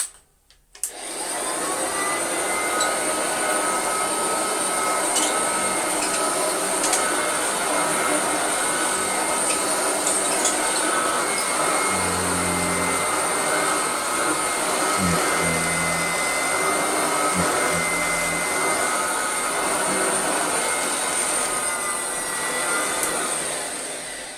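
A varnished Hoover Junior 119 upright vacuum cleaner with a worn belt clicks on and then runs steadily. Its loud, close, even whine and roar continues unbroken to the end, with faint low knocks partway through.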